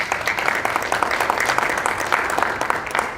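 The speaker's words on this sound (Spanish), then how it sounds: "también al maestro Gilberto Tinajeros Díaz, para quien les pido a todos le demos un fuerte aplauso, por favor." An audience at a legal seminar on human-rights-based budgeting claps loudly and steadily, a dense, continuous patter of many hands filling the room.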